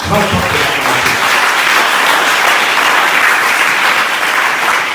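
A church congregation bursts into loud, sustained applause and cheering that fills the room, with a voice audible briefly at the start.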